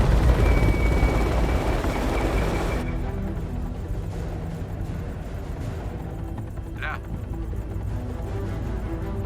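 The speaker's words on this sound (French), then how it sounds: "Et les hélicos." Helicopters in the horror video game House of Ashes, a steady broad rotor and engine rumble with a brief higher whine partway through, heard under game effects and talk.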